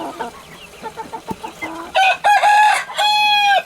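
Scattered soft clucking gives way to a couple of loud, drawn-out Aseel rooster crows, close by and ringing clearly over a quiet background.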